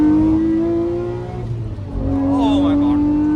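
A Lamborghini Murcielago engine roars close from inside the car, holding a high tone, dipping, then blipping and revving up again on downshifts, with passengers' voices in the cabin.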